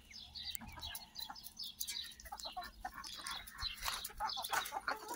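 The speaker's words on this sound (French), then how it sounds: "Et là, j'ai ouvert pour que les poules sortent." Chickens cluck and chirp as they come out of their coop, several birds calling in quick overlapping bursts close by, with a low hum underneath and no talk.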